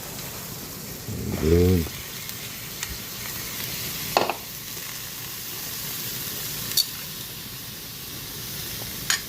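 Bitter gourd (ampalaya) sautéing in a pan: a soft, steady sizzle with a brief louder burst early on and a few scattered clicks, while a voice speaks briefly.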